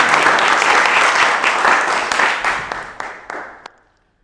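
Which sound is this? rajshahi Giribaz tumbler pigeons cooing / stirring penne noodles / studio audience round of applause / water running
studio audience round of applause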